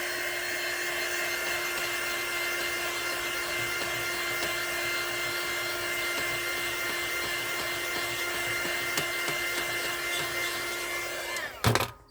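Dryer blowing steadily to cure sealant brushed onto 10-minute resin, a continuous loud whirring hum lasting throughout, ending in a brief handling clatter, with no voices.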